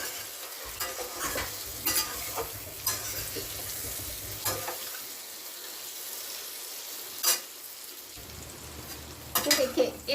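Parwal sizzling in a pan with Kashmiri red chilli, a steady fry hiss broken by repeated spoon scrapes and stirring clinks, with a louder clatter at the end.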